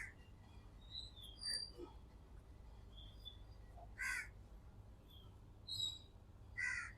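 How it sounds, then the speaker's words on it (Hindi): A crow outside a third-floor flat caws several times in short, harsh calls spaced a second or two apart, heard over a low background hum with faint chirps. "कौवा क्यों काय काय कर रहा है?"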